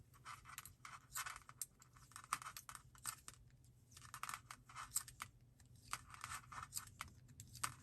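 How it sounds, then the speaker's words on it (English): Faint, irregular light clicks and ticks scattered over a quiet background as the cable of interchangeable knitting needles taps while someone knits. "And you can hear my cable clicking"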